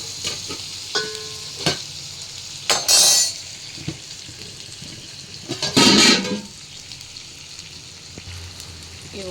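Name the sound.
water boiling in a pot for biryani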